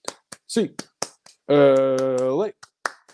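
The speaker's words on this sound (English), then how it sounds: "So get your hands up for an 8-clap." A quick series of sharp, rhythmic hand claps counts out a UCLA Bruins eight-clap, crisp and close. A long drawn-out shouted chant breaks in midway, and a few more claps follow.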